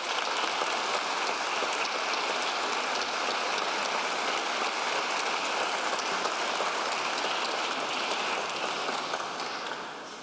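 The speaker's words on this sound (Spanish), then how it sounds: "Un aplauso nuevamente para José Sulaimán Chagnón" Sustained applause from an audience at a memorial tribute to boxing official José Sulaimán Chagnón, a dense steady wash of many hands clapping that holds evenly for about ten seconds, then tapers slightly at the end, with no voices.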